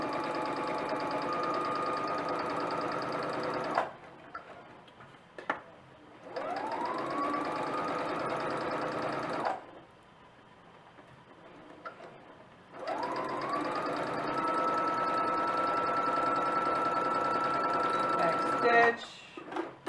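A sewing machine runs through long bursts of stitching on fabric for a back, pockets and hem, loud and close. A few seconds of near silence separate the runs, and there are brief clicks between them.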